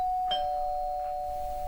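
A doorbell rings with a steady, sustained electronic tone, loud and close, in a quiet room with no talking.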